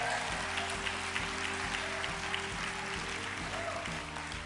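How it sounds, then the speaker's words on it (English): Audience applause in a large hall during a motivational sermon on facing crisis, a steady dense wash of clapping that carries on for the full stretch, with a rhythmic musical backing underneath. "Clap your hands."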